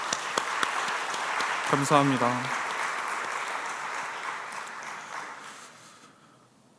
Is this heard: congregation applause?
yes